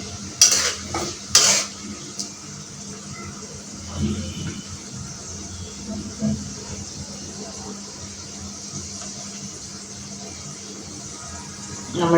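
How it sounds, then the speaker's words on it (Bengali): Pieces of pona fish coated in garlic and ginger paste fry in oil in a pan, with a soft continuous sizzle under a couple of sharp utensil clinks at the start and occasional stirring scrapes. "এগুলোকে ভালো করে তেলে ভেজে নিব"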